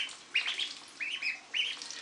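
Ducklings in a bathtub giving high, bright peeps, three short bursts of calls echoing off the hard tub surfaces with quiet gaps between them.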